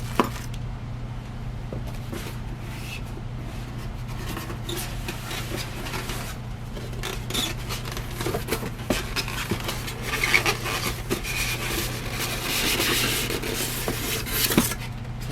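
Styrofoam packaging from a boxed 1980s Banvil Envirofan heavy duty Gold Line ceiling fan being handled and shifted, giving continuous close rubbing, squeaking and scraping with scattered clicks over a steady low hum.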